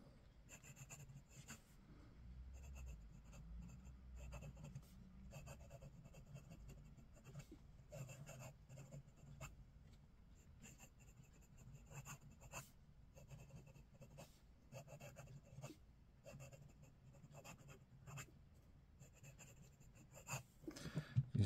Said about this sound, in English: I haven't quite got the hang of this fast writing